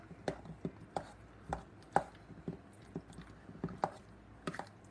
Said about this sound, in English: just to chop them up into chunks instead of whip it all up into a mushy batter